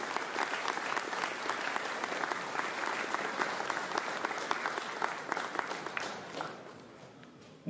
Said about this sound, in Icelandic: við skulum bara gefa henni gott klapp meðan hún stígur á sviðið